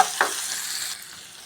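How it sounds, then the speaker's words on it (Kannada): Chopped onion and tomato sizzle steadily in a hot pan for a rajma stir-fry, with a brief stir near the start and the frying hiss softening slightly toward the end. "ಒಂದು ಈರುಳ್ಳಿನ ಹಚ್ಕೊಂಡಿದ್ದೆ ಚಿಕ್ಕದಾಗಿ, ಒಂದು ಟೊಮೆಟೊ, ಇದೆಲ್ಲವನ್ನು ಚೆಂದಾಗಿ ಬಾಡಿಸ್ಕೋಬೇಕು ರೀ"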